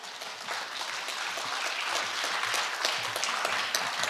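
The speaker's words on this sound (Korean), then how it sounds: "힘찬 박수로 청해 듣겠습니다." Steady audience applause greets a creative Korean traditional music group taking the stage at a commemorative concert, a dense, even patter of many hands at moderate volume.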